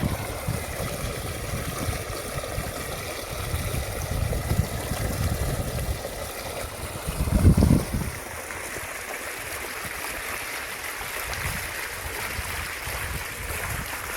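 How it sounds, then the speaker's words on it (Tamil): Well water rushes steadily into a farm field in a continuous broadband wash, with a low engine-like rumble underneath and a brief louder surge midway; no voices. "கிணத்து தண்ணி வந்து பாஞ்சிட்டு இருக்குது காட்டுக்கு"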